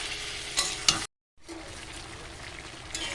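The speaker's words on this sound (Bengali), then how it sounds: "ভালো করে মাংসটাকে নাড়তে হবে।" Marinated chicken fries in hot oil in a wok while a spatula stirs it, giving a soft sizzle with a few scraping clinks and one brief cut to silence midway.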